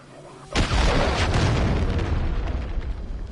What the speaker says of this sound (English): Launch the cruise missile.